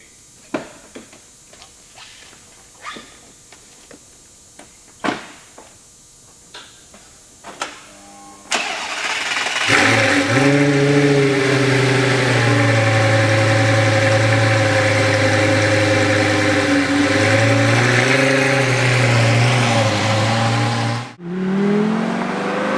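A Lamborghini Gallardo with the e-Gear transmission fires up after a few clicks and knocks, then runs loud and steady with a strong low drone for about twelve seconds before cutting off abruptly, with no one speaking.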